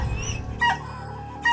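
A dog gives a brief high whimper, then a couple of sharp yips, close and clear, with no one talking.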